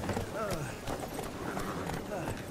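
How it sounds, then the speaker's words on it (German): Horses hitched to a wagon stamp and shift restlessly in an audio drama, their hooves giving irregular clip-clop beats on the ground beneath a narrator's continuous speech. "Die vorgespannten Pferde, offensichtlich vom Gestank nach Blut und Aas beunruhigt, tänzelten, ruckten an der Deichsel."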